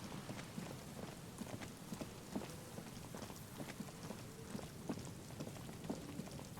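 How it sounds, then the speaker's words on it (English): Steady rain patters in the video game Disco Elysium, a dense hiss of drops with scattered louder splats and taps, close and continuous throughout. "I feel like the game is rigged to rain forever now. It will never stop raining."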